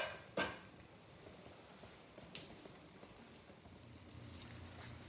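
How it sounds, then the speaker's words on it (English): Mitai, an Indian sweet, frying in a home kitchen for Diwali, with a faint, steady crackling sizzle throughout and a sharp clatter near the start. "so now I finish frying the mitai"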